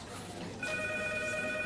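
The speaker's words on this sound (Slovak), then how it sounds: "Zvoní telefón." A telephone rings in a Slovak home drama scene, a steady electronic ringing tone starting partway through and continuing to the end, moderately quiet behind faint room noise.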